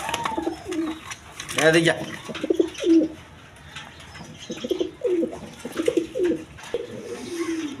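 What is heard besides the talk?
pigeons cooing, Danish and Lotan pigeons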